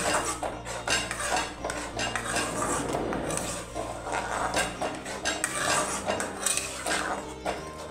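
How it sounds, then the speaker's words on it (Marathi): Spoon clattering and scraping around a pot while soybean gravy is stirred, a steady run of metallic clinks and scrapes close by with no talking. "चांगलं पुन्हा हे ढवळून घ्यायचं."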